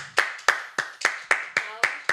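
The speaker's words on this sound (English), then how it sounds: "Everybody clap." Eight sharp hand claps land in a steady, slightly uneven rhythm, close and fairly loud, with a brief voice murmuring between them.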